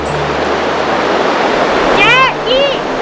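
Flowing river water rushes steadily as a broad, constant wash throughout, with children's voices chattering over it near the end.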